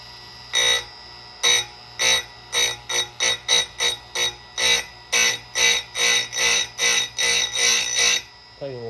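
An Oregon chain grinder sharpens a chainsaw chain, the wheel touching down in a steady series of short, loud bursts, each grind separated by a brief pause as the chain is indexed tooth by tooth.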